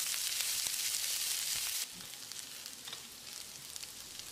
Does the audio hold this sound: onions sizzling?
yes